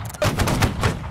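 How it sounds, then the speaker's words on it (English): Musket volley from a line of soldiers in the video game Holdfast: Nations at War, a ragged burst of overlapping gunshots rolling together into a loud, rumbling crackle lasting about a second. "Take aim towards the enemy. Put a medical. Heads. Okay. Adjust. Aim. Fire."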